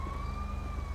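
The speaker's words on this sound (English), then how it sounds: "Is that ambulance trying to get to me?" An ambulance siren in GTA 5 wails as a steady, gliding electronic tone over low engine rumble in the game, heard briefly and fairly loud.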